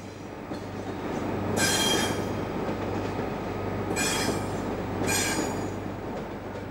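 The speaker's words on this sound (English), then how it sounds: "The Class 91s usually push their trains into King's Cross, as seen here" A Class 91 electric locomotive pushes its train past steadily toward King's Cross, with bursts of high metallic wheel squeal rising and fading several times over the continuous rolling noise.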